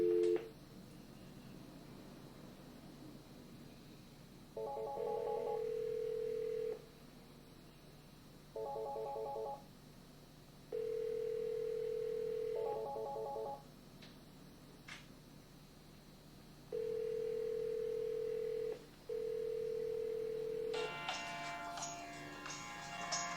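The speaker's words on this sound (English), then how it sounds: "I'm simulating the outside caller calling this phone on the hosted phone system" A hosted VoIP office desk phone rings on an incoming outside-line call, giving repeated electronic ring bursts separated by short pauses, fairly clear in a quiet room, with a brief different tone near the end.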